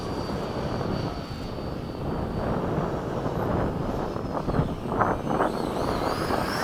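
Radio-controlled model jets fly past in formation, a Freewing 90mm F/A-18 Blue Angels and an Eflite 80mm F-4 with an Eflite P-51: a continuous whooshing ducted-fan roar that swells and shifts as the planes pass, alone without talk.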